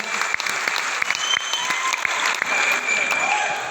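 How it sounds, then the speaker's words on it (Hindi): A large crowd in a hall at a motivational coaching event claps continuously, a thick, sustained wash of applause with some voices mixed in. "आपकी तालियों के बीच में"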